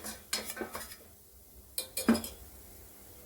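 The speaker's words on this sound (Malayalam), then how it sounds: "1 സ്പൂൺ ബട്ടറിലേക്ക് 1 സ്പൂൺ മൈദ ആഡ് ചെയ്ത് കൊടുക്കുക. നന്നായിട്ട് മിക്സ് ആക്കാം." Butter and flour being stirred together in a pan with a spoon, giving scattered clinks and scrapes of utensil on cookware, several short taps close by with quiet gaps between.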